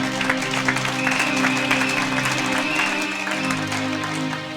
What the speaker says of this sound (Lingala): Acclamons pour la gloire de Jésus-Christ, notre Dieu.